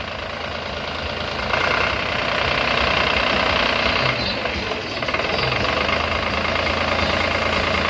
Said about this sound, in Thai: เดี๋ยวยกใบดันให้ให้ดูนะครับ ระบบไฮดรอลิกนี่ ไม่ต้องใช้คันเร่งช่วยนะครับ